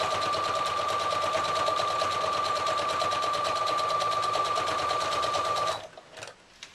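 A sewing machine stitches straight across the eyelid of a Christmas Santa cushion, running in one continuous, close and loud buzzing stretch of almost six seconds before stopping, followed by faint fabric handling.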